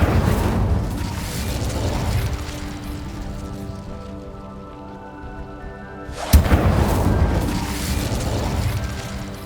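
Incendio fire spell cast in Hogwarts Legacy, heard as a loud rushing blast of flame that fades, then a second sharp burst surging in again, close and full.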